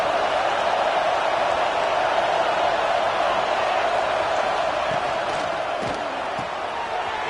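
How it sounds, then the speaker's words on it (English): A football stadium crowd at Oregon versus UNC keeps up a dense, loud, continuous roar of cheering that eases slightly near the end, with no clear talk on top. "This crowd ready to make its presence known."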